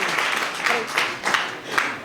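A class of students in a coaching session gives a burst of applause, several waves of clapping rising and falling over roughly two seconds, close and fairly loud.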